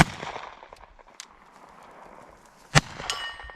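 A single sharp report from a 1915 Webley and Scott .455 revolver rings out loud and close, with a short metallic ring after it, following a stretch of quieter background noise.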